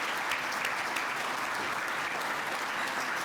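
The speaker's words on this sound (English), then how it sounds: "Big round of applause." Loud, sustained applause fills the hall at a building and construction industry awards ceremony honouring an outstanding graduating apprentice, a dense continuous clatter of many hands with no break.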